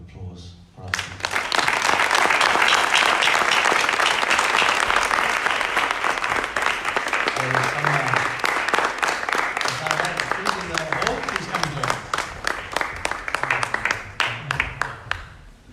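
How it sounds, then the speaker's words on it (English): Warm, sustained applause from a lecture audience after talks on Sanskrit poetry, with dense clapping that starts abruptly, holds steady for over a dozen seconds, then thins out near the end. "join me in a wonderful, warm round of applause for our speakers"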